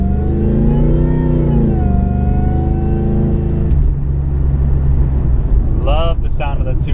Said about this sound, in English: Love the sound of that supercharger pulley.